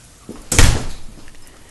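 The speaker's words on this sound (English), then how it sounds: "Close the door." A guest-room door in a house is pushed shut, giving one firm thump with a short rattle that fades quickly, close by and alone.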